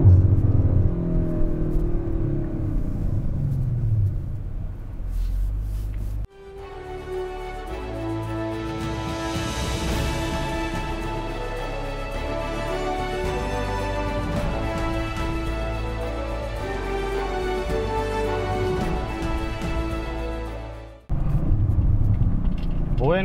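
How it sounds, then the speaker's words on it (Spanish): A 2021 Audi RS5 exhaust rumbles and burbles steadily up close, with a sustained deep drone broken by an abrupt change in tone, then a return to the low rough burble at the end. "Escuchen el borboteo del escape."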